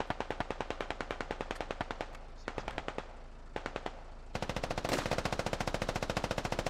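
A .50 caliber machine gun in a first-person shooter firing long rapid bursts of sharp, evenly spaced shots, with a brief pause in the middle before a louder, denser stretch of fire.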